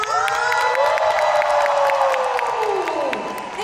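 A Hong Kong fan-meeting audience cheers and screams loudly for two returning guests, a dense, high-pitched wall of shrieks and whoops over scattered clapping that holds steady and then starts to fade.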